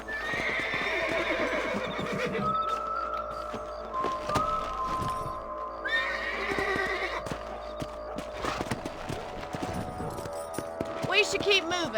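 Horses gallop with steady clip-clopping hooves and occasional whinnies in the Red Dead Redemption western video game, running under character dialogue and background music.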